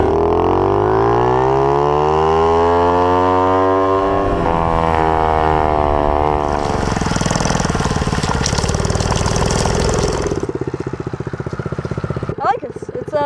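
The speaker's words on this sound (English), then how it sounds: "I'm riding my motorcycle" A motocross motorcycle being ridden in Miami, its engine revving close and loud with a pitch that sweeps upward, then a broad, rough roar that continues as a steady drone until a sharp rattle near the end.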